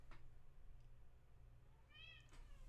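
A cat meows indoors during an online computer science lecture, one short faint mew near the start and a clearer, drawn-out meow toward the end over a steady low hum.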